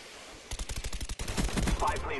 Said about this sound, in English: that was bad shooting